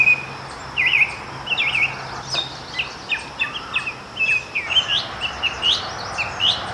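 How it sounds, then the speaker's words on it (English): A song thrush sings in the background in spring, repeating short bright whistled phrases in quick bursts over a quiet outdoor hush, with the notes moderately distant and steady throughout. "that bird in the background, I have finally identified. I know which bird it is. It is the one and only song thrush."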